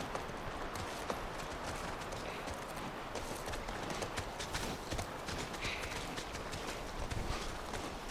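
A horse gallops in The Last of Us, its hooves beating a quick, steady clip-clop rhythm that runs unbroken throughout under a constant outdoor wash of ambient noise.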